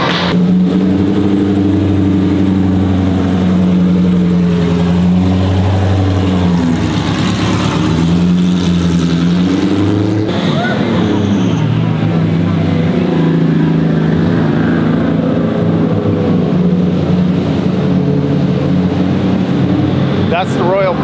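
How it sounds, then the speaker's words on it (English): Formula Drift car engines rumble and rev loudly nearby on a closed road, rising and falling as the cars roll in, with people talking over the noise. "it looks like the drift cars are pulling in right now"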